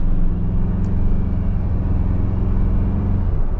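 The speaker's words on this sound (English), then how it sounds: "there is a bit of tire noise" A 2025 Ford Bronco Big Bend Sasquatch produces a steady, loud low rumble of tire roar from inside the cabin while driving, constant and unbroken, with no talking.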